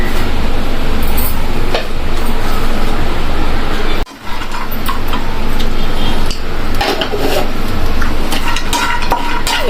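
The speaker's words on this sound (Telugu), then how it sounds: "దానికి జీడిపప్పు వేయించుకుంటున్నాను" Cashew nuts roast in a pan for dry fruits laddu, with continuous sizzling and frequent scraping and stirring clatter close by, briefly interrupted once, no talking.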